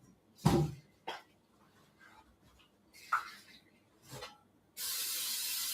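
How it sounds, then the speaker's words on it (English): Cooking oil spray hisses onto cooking pans in a loud steady burst near the end, following several softer scattered noises and some talk. "me spraying my pans has caused them to have a better life, for real, because nothing ever sticks to them"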